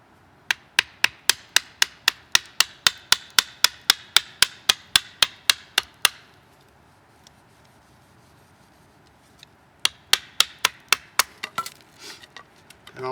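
Sharp, evenly spaced strikes batoning a Diving Sparrow Hibou knife through wood, about twenty rapid whacks, a few seconds' pause, then another quick burst of blows, close and loud with no talking.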